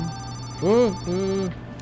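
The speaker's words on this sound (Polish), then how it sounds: "telefon." A telephone rings in the Laundry Store Simulator game, two warbling electronic tones in quick succession over a steady low background hum, fairly clear and close.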